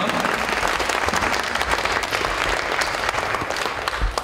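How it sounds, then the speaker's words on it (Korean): An audience at a 133rd school anniversary ceremony claps steadily and densely. The applause is continuous and moderately loud, with no voices over it, and holds for several seconds. "다시 한번 큰 박수로 축하해 주시기 바랍니다"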